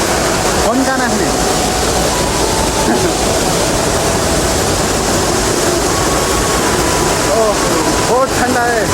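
A jungle waterfall gushes in a steady, loud roar of flowing, splashing water, with voices chatting intermittently over the rushing noise.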